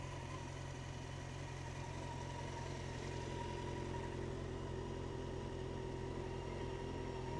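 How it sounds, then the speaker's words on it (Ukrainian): A cold, completely unwarmed Yamaha XJ6 Diversion motorcycle engine idles steadily with a low, even hum and faint mechanical vibration, heard alone at close range with no voices. "Так як у нас двигун холодний, абсолютно не прогрітий."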